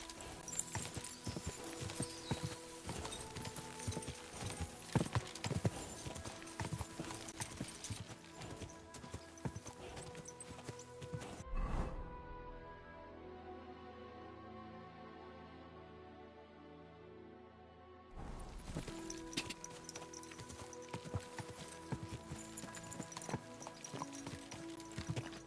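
Horse hooves clip-clop steadily in Kingdom Come Deliverance 2, a brisk rhythmic beat over outdoor game ambience with a short stretch of quieter muffled sound midway, then the hoofbeats return at the same pace.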